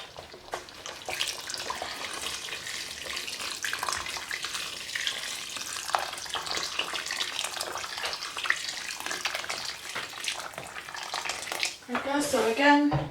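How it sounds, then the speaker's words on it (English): Water pours in a steady, bright splashing stream into a pot of Jamaican curried goat meat on the stove, with a short clatter of stirring near the end. "I'm just going to add some more water to it, top it up, as you know, just to cover the meat"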